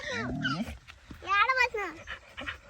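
A dog on a farm whimpers and whines in high, wavering cries, close by, with a person talking over part of it.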